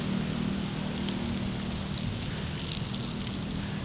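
Strong wind roars steadily outdoors, a dense rushing noise buffeting close by with no talking.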